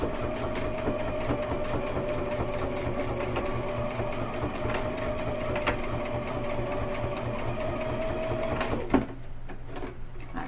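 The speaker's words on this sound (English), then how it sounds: "Sew it all the way across, kind of back stitch." Sewing machine running steadily while stitching a casserole carrier fabric with gray thread, a continuous mechanical whir with rapid needle clatter that stops abruptly near the end.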